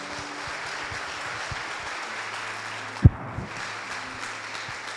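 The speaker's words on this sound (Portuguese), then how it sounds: "Aplauda ao Senhor, por favor." A church congregation applauding, a sustained wash of clapping from many people with a sharp thump near the middle.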